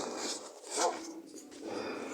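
A wolf in the Minecraft video game gives a faint, brief whimpering dog-like sound over a soft background hiss.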